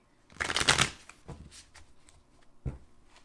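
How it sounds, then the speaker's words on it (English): A deck of tarot cards riffled and shuffled up close, a loud burst followed by softer shuffles and taps. "I actually hate shuffling on camera"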